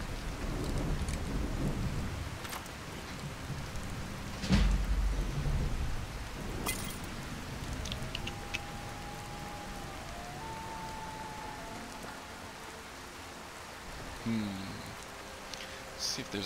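Steady rain hisses in a video game world, broken by a heavy rumbling thunderclap and a few sharper crackles, with a fainter roll of thunder later; no one speaks.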